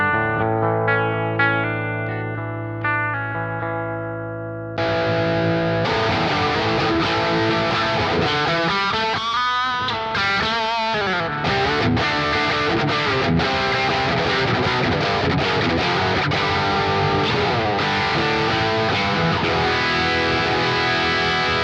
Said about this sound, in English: So let's hear clean tone.